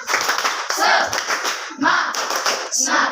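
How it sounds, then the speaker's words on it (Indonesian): A group claps a rhythmic spirit clap in a supervision session, loud close bursts of patterned hand claps in quick clusters with voices mixed in. "Tepuk semangat."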